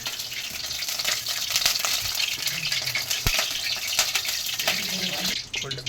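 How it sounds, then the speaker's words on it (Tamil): Food frying in hot oil in a home kitchen pan, with a steady broadband sizzle and crackle throughout, a few sharp pops of spattering oil, close and fairly loud with no talking. "எண்ணெய் ஊற்றிக்கலாம். தெரிக்குது, மூடிக்கணுங்க."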